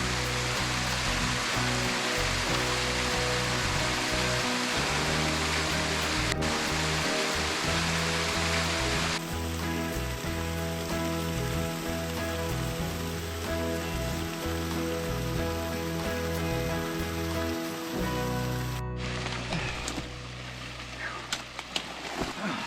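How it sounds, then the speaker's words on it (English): A waterfall pours into rocky pools in a canyon in the Pinal Mountains of Arizona, a dense continuous roar of rushing water, close and loud throughout. "We're standing here in the middle of the falls, through this pool, and up and into the falls."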